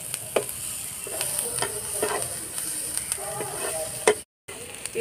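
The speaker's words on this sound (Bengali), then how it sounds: "পেঁয়াজটা একটু ভাজা ভাজা হয়ে গেছে" Onions frying in oil in a frying pan, turning lightly golden, for egg dopiaza: a steady close sizzle with intermittent scraping strokes of the spatula, briefly cutting out near the end, no one speaking.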